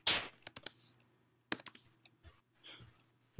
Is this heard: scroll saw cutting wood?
no